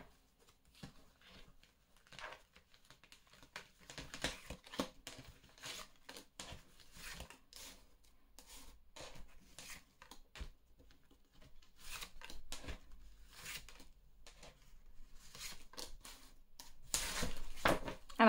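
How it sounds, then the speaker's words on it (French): Tarot cards being reshuffled by hand give a faint, steady papery patter and rustle with small irregular bursts. A louder flurry comes near the end. No one speaks. "Je remélange."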